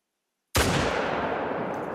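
An F.L. Sporter .303 rifle in theHunter: Call of the Wild fires a single loud, sharp shot after silence, and its boom rolls on in a long, steady decaying tail.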